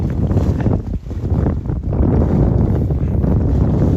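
Steady, roaring wind buffets the microphone on a sailing dinghy over rushing water, with a brief dip near the one-second mark before the gusty noise swells back.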